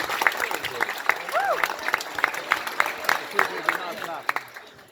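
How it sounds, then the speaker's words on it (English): Diners at a hurling club dinner dance in a hotel applaud the staff, brisk uneven clapping close by with voices and murmurs mixed in throughout. "the Gravel Arms deserves a warm round of applause for that beautiful team"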